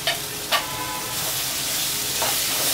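Chopped potatoes are dropped into a sizzling masoor masala, giving a couple of brief splashy bursts, then a steady loud frying hiss that continues to the end.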